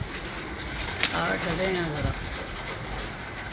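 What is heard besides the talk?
racing pigeons cooing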